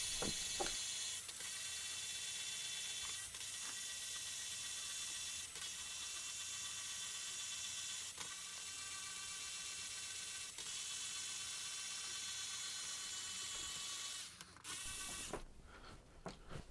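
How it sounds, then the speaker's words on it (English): Tuning pegs being turned to slacken the strings on an Ibanez RG4EX1 electric guitar, giving a steady close ratcheting, clicking mechanical rattle that runs almost continuously, with a brief pause and a few scattered clicks near the end. "Let's go ahead and loosen these strings up."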